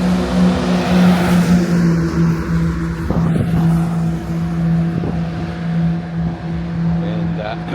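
Early-morning road traffic in Vietnam, with trucks passing close by: a steady, loud engine rumble and tyre roar runs throughout, with heavier vehicles swelling and fading past and a few faint clicks and bumps.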